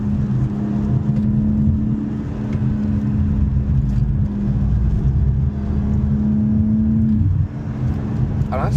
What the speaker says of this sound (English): I don't know about you guys, but if you've driven one, the car sounds angry.